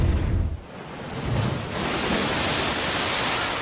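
Seaside beach at Beidaihe in summer, a steady broad roar of surf and wind with no distinct voices, loud and continuous across the whole stretch.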